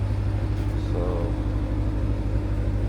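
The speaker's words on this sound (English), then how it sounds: "we're at the gas station. I'm about to get some gas." Gas station forecourt ambience with a steady low engine rumble from an idling vehicle, a constant droning hum throughout with no clear passing cars.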